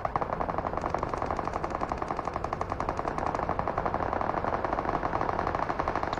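Rapid automatic gunfire rattles nonstop during a fight in the video game PUBG Mobile, a dense, loud, continuous burst of shots with no voices.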